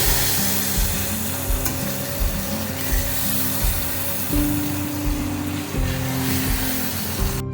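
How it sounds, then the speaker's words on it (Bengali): Spices, tomato, potatoes, salt and green chilli being sautéed in a pan for a fish curry, a loud continuous sizzle with stirring scrapes close up, with no voices. "দিয়ে ভালো করে মশলাটাকে কষিয়ে দেবো"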